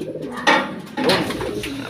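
Racing pigeons coo softly at close range as they come back to the loft, giving two or three low, throaty calls over a faint background.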